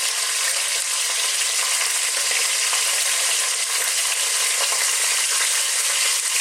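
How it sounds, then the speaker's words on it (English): Salt-and-pepper-seasoned chicken pieces searing in a hot pan give off a loud, dense, unbroken sizzle that holds steady throughout, close by, with no talking. "We're going to cook these for about just 3 or 4 minutes, turning them every now and then, just to kind of seal them"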